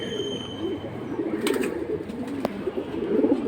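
Pigeons for sale at a pigeon market coo in low, rolling murmurs, several birds overlapping near the recorder amid soft rustles and a faint click or two, with no one speaking.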